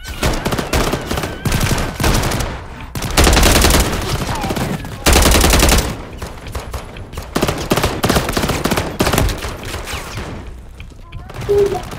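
Loud, sustained bursts of automatic gunfire in Call of Duty, with rapid volleys and brief lulls, and voices talking over the shooting.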